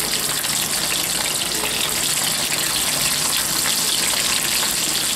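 Pre-cooked potato chunks fry in a pan with a steady, loud, hissing sizzle that holds unbroken throughout.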